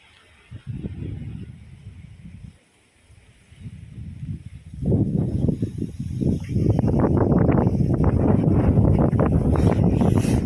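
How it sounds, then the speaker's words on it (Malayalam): Strong wind gusts across the microphone at a misty hilltop viewpoint with railings, rumbling loudly and buffeting harder and more continuously after a brief lull. "അന്തരീക്ഷം നല്ല കാറ്റുണ്ട്"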